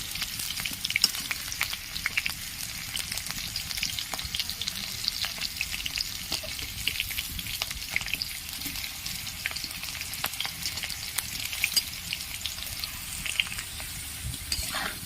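Potatoes frying in hot oil for a mutton curry, a steady dense sizzle with crackling pops throughout, close and continuous with no voices.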